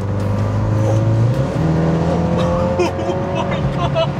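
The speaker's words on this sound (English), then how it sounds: "the exhaust has opened" BMW X2 M35i with an aftermarket air intake accelerating hard as its exhaust valves open, loud revving engine tones climbing and shifting under excited talk inside the cabin.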